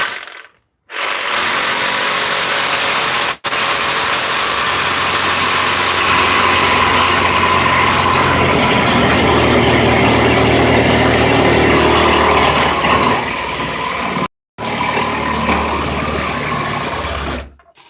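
Sawzall reciprocating saw cutting through frozen meat, a loud continuous buzzing motor with rattling blade strokes running steadily for most of the stretch, with brief stops near the start and end.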